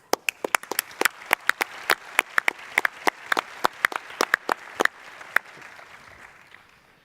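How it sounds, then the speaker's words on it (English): A small conference audience claps at an opening ceremony. The claps are sparse and distinct rather than a dense roar, come at an uneven rhythm, and thin out toward the end into a few last strikes. "Maybe we can at least give them a round of applause."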